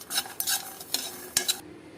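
Sesame seeds are stirred in a hot dry pan, producing scraping, rustling strokes in short bursts, close and fairly soft, with no talking.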